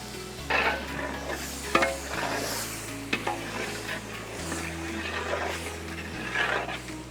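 Turmeric, red chilli and coriander powders fry in a pan for aloo tomato curry while a spoon scrapes and stirs them in steady strokes, giving a soft sizzle with occasional louder clacks, close and without talk.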